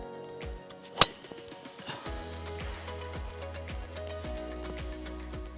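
A Kirkland Signature golf driver strikes a ball with one sharp, loud metallic click, followed by a quieter stretch of steady background tones and faint knocks.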